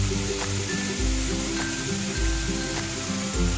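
Dark soy sauce hits a hot pan for hot and sour soup, a bright continuous sizzle over a low pulsing bubbling rumble that swells in three rhythmic waves, no speech.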